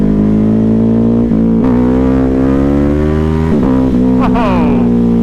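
Ducati Hypermotard 950 motorcycle pulling hard in second gear, a loud close engine note climbing steadily in pitch with a brief dip and shift-like stumbles near the end; faint voice mixed in.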